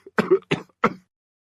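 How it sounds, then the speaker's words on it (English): Three harsh, closely spaced coughs from a person suffering from a bad cold, loud and near, following a brief throat sound, then silence. "can't stop coughing and blowing my nose"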